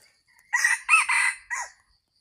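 A rooster crows loudly and close by in a few drawn-out bursts, with no talking around it.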